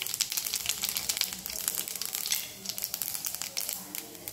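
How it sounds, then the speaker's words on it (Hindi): Fennel seeds frying in hot cooking oil in a kadai, a steady close crackling sizzle with bright spitting pops running throughout, no talk over it. "इसमें सबसे पहले हम एक चम्मच सौंफ फ्राई करेंगे"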